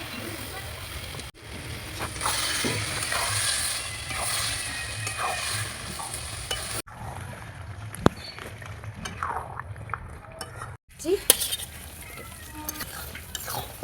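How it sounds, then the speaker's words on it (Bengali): Large chicken pieces added to a hot pot for biryani, setting off steady sizzling and frying with occasional clinks of a utensil against the pot, while a person talks over the cooking. "চিকেনটা এরপর দিয়ে দিচ্ছি, বড় বড় পিস আছে, এটা বিরিয়ানির জন্য বড় পিসটা"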